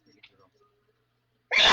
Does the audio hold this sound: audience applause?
no